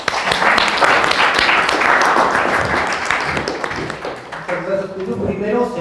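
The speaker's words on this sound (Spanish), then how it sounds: "Gracias, un aplauso, una bienvenida." Audience applause greeting a speaker at an arts-and-science community event, a dense steady wash of clapping that stays loud throughout and begins to thin toward the end as voices emerge.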